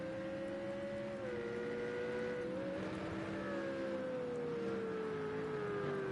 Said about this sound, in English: And you can hear Jurgensmeyer, he's really putting on the engine brakes there.